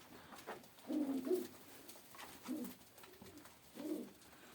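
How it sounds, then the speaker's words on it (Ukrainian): Soft, low pigeon coos come in three separate bursts, fairly close, with a quiet gap between each. "Ось такі у нас голуби."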